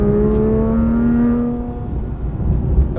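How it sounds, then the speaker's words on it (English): A Porsche GT3 RS accelerates hard while overtaking, its engine note rising loud and close with a steady climbing whine that fades into a rougher drone of road and wind noise. "Overtaking is no problem in this car."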